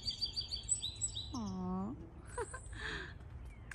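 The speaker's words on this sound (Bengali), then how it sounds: "আর পাখি রাখতেছে সেই সকাল থেকে" Birds calling outdoors in rainy weather, bright chirps and trills at the start, then a clear warbling call and further twitters, under low talk and background noise.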